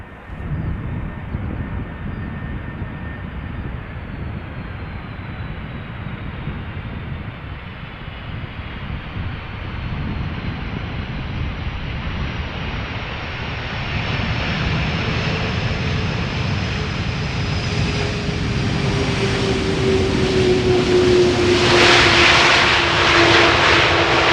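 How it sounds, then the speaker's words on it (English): An airliner landing at Schiphol Airport, its engine roar building steadily and growing louder toward the end with a rising whine as the reversers come on, with wind noise throughout and no talking. "a loud landing with reversers being applied"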